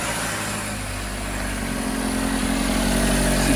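A high-mileage second-generation Chevy Equinox, about 247,000 miles and with a suspected cracked exhaust manifold, runs at a steady, loud idle with a constant low rumble and no talking.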